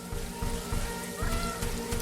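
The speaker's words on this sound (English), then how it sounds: "It's raining." Steady rainfall in the video game The RiftBreaker, a soft continuous patter with a faint rhythmic mechanical pulse underneath, moderately loud with no talking.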